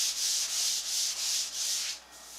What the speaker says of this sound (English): I'm taking some 2000 wet dry sandpaper, and I'm going to just give it a light sanding to make it nice and smooth